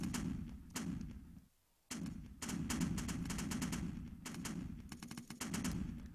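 Rapid weapon fire in a Unity game jam video game, bursts of quick repeated synthetic shots over a dense rumbling game soundtrack, loud and steady with one short gap near the start.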